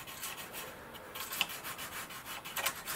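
Soft, faint rubbing of an alcohol-dipped cotton swab cleaning a surface during a servo install on a model glider, in quick repeated strokes with no voices.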